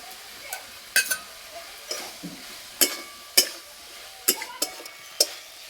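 Ground spice paste frying with Malabar spinach stems in a pan, a soft background sizzle broken by sharp clinks and scrapes of a spatula against the pan at irregular intervals.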